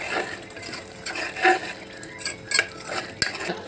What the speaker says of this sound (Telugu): కొత్తిమీర పుదీనా సన్నగా కట్ చేసి వేయాలి కొంచెం లైట్గా కలపాలి